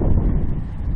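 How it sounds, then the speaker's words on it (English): A short burst of wind rumbling loudly against the microphone in a Central Oregon homestead garden, low and blustery. "sorry about the wind."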